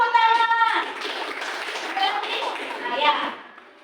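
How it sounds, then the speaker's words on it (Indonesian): Brief hand clapping in an Indonesian classroom during a teaching practice lesson, heard in a short burst mixed with children's voices before the talk carries on. "Tepuk tangan."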